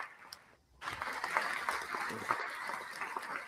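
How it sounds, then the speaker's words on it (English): An audience on a live hip hop call-in show breaks into applause after a brief quiet pause, a dense burst of clapping that holds steady and fairly close, with voices mixed in beneath it. "Round of applause to Jack Topic."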